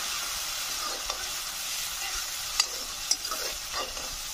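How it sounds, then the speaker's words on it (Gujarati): Chopped tomatoes, chillies and onions sizzle steadily in a hot pan for chana dal shaak, with a few sharp spoon clinks and scrapes as they are stirred. "ટામેટા અને મરચાં ઉમેરી દઈશું અને બધું જ સરસ રીતે સાંતળી લેવાનું છે"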